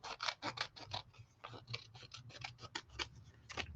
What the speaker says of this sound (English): Okay, let's trim this down.